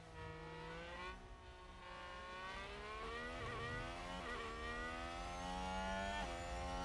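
Formula 1 cars in F1 Manager 22 scream down a straight at Barcelona, a steady high-pitched engine whine rising and shifting as the cars accelerate and pass, fairly faint but continuous throughout.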